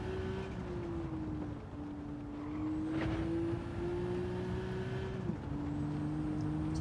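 A turbocharged car engine drives in a video game, a steady droning hum with a sustained engine tone that dips and shifts pitch at gear changes, alone without talk.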